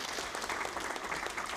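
A room of political caucus members applauding the new Prime Minister and Deputy Prime Minister, loud, dense, sustained clapping from many hands, close and continuous throughout.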